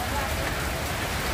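Steady rain pours down during a typhoon, a dense continuous hiss of drops on surfaces filling the whole stretch at an even, fairly loud level with no thunder.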